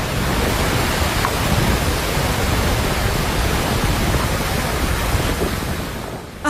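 A flooded torrent rushes through Pilalimata in the Sitia municipality, making a loud, continuous roar of churning water with no break.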